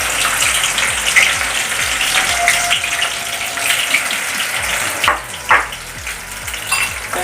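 Sliced okra rounds fry in hot coconut oil, a loud, steady close sizzle with crackling pops and occasional stirring scrapes throughout, with no talking.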